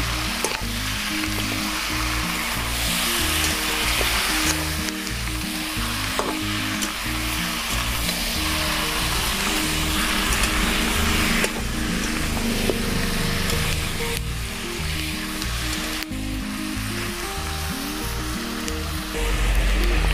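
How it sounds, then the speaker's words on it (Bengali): Chicken kosha sizzling loudly in a pan as it is stirred, a continuous close fry with rhythmic scraping and clatter of the spatula and no voices. "এবার নেড়ে চেড়ে দেবো"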